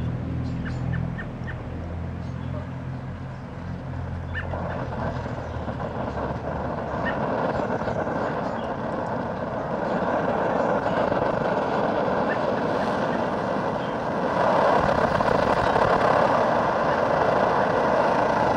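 An MSR Dragonfly camp stove burning two-year-old kerosene: a steady roaring hiss of the flame that grows louder partway through as it is turned up, close and continuous, with no talking.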